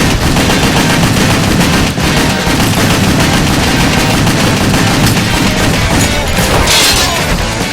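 Shotgun fire in the action video game WET, loud and dense, with rapid blasts and booming gunshots layered over continuous game noise and crashes.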